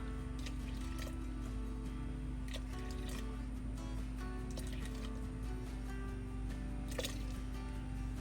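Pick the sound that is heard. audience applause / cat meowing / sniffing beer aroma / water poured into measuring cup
water poured into measuring cup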